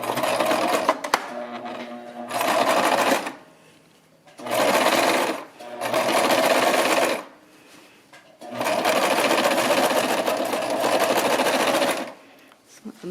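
A sewing machine stitches a fabric pillow cover in four loud, steady bursts of whirring separated by short pauses, with the final run lasting the longest.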